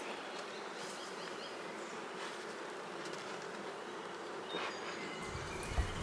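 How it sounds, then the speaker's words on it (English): Dense buzzing of many bees fills the air continuously, close and steady, with individual insects droning past now and then. "Good job, little bees."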